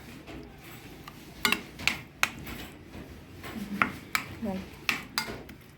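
Grilled chicken being turned in a pan, a spatula clacking and scraping against the metal in a run of sharp irregular knocks over a low background, close, with a brief spoken word.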